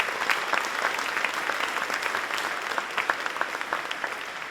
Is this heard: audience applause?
yes